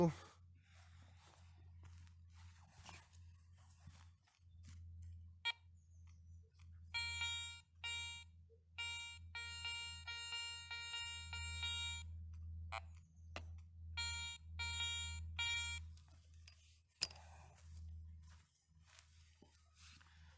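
Garrett 400i metal detector gives repeated double-tone beeps over a buried silver 10-grosze coin in soil during a depth test, clear clusters of stacked electronic tones standing out against low field hum and occasional speech.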